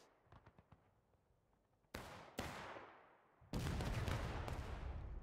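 Union artillery fire in the Civil War game War of Rights: a few faint distant pops, then three heavy cannon booms in succession, each with a long rolling decay, the last blast loudest and sustained.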